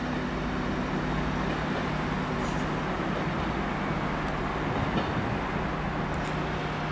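An IC3 train at Fredericia railway station produces a broad, steady rumble of rolling wheels and running engines, loud and constant, with a few faint high squeals over it.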